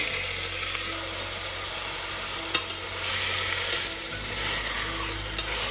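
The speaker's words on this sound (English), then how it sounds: "Fry the mutton for about 2 or 3 minutes" About 500 grams of mutton with ginger garlic paste fries in a pan, giving a steady, loud, close sizzle with occasional stirring scrapes and clinks throughout. No talking.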